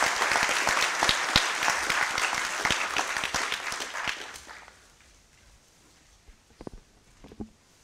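A crowd breaks into loud, dense applause to welcome Judge Ramon Reyes at a Brooklyn Law School fall convocation. The clapping fades after about four seconds to near quiet, leaving a few scattered claps.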